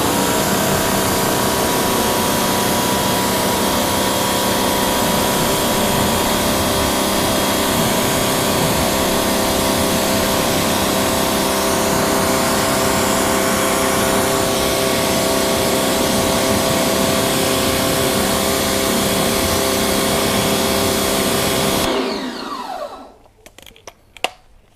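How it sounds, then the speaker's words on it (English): Pressure washer rinsing car wheels, a steady loud hissing spray with a constant motor whine running continuously before cutting off abruptly near the end. "Grab the pressure washer and see how this looks after a good rinse."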